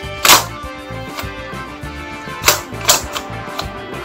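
A Kar98k toy rifle's bolt handle is worked in several sharp, close plastic clacks and snaps, with two pairs of louder bursts spaced over a few seconds and quieter mechanical clicks between them.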